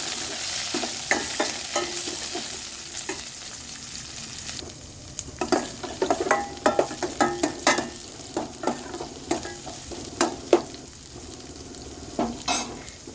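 Onions sauteing in a pan for radish sambar, a low continuous sizzle broken by repeated clacks and scrapes of a spoon stirring, growing busier toward the middle.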